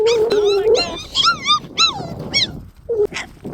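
Guardian puppies whimper and whine close by in a series of short, rising and falling high-pitched cries and yips, with brief gaps between them.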